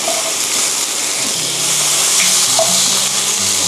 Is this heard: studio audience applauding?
no